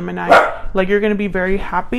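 A dog gives one short bark in the background as a person speaks close up over it.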